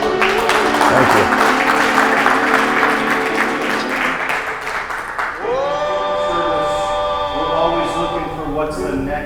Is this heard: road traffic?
no